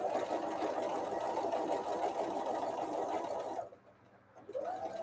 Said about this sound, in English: it will be my leader ender, and I will just sew these